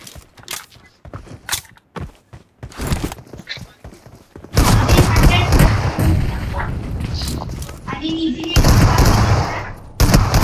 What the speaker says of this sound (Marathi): गौरवला भाई तोंडावर 2-2 गोळ्या पडतायत, मरत नाही.